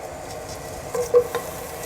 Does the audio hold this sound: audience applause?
no